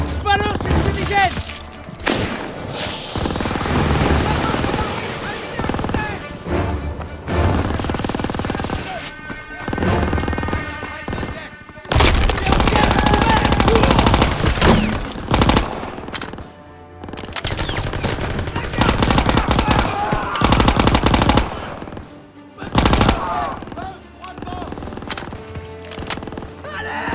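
Machine gun and rifle fire fill a World War II video game battle in Aachen, Germany. Dense bursts and explosions come and go in loud waves while voices shout in French throughout.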